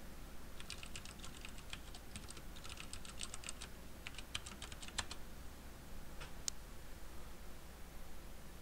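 Keys on a computer keyboard clatter in quick irregular bursts of typing, separated by short pauses, faint and close against a steady background hiss, with no talking.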